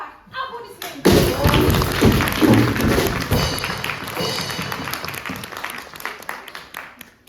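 A show audience breaks into loud applause mixed with thumps and stamping, sudden and full at first and then slowly easing off, with a voice briefly heard before it starts.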